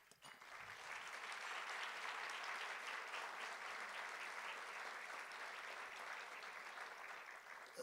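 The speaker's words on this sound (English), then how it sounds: "We need to give them a hand and a round of applause" A crowd gives a steady, full round of applause at a North Carolina superintendent awards event, the clapping dense and even from start to finish with no talk over it.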